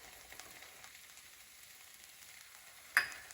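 Salted okra turned over in a pan: a faint, steady hiss of gentle sizzling with one sharp clink near the end, close and quiet, with no voices.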